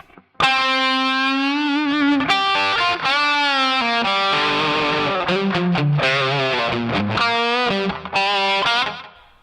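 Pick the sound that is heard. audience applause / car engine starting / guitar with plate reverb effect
guitar with plate reverb effect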